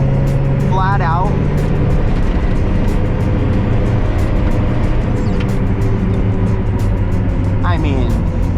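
Loud, sustained engine roar of a sports car accelerating flat out uphill in second gear, steady and close, with brief voices breaking through near the start and end.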